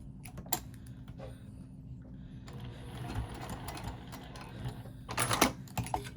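A sewing machine stitches the D-ring tab of a patchwork bag, with short rapid bursts of needle clatter over a low motor hum, close and fairly quiet.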